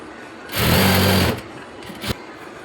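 A sewing machine stitches folded churidar pant fabric in one short, loud whirring burst of about three-quarters of a second, followed by quiet handling and a brief second tap.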